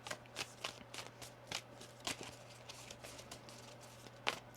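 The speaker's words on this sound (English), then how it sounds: "One more shuffle here." A deck of tarot cards being shuffled by hand, with quick papery riffles and slaps in an uneven rhythm, close and fairly quiet over a steady low hum.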